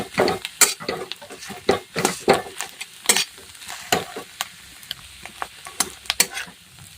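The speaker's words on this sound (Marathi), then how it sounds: "गॅसवरती छान छान असं मिक्स करून घ्यायचं आहे बेरी" Ghee residue (beri) stirred in a pan over a gas flame, producing a steady run of scraping, clinking spoon strokes against the metal with soft sizzling in between, close and fairly loud.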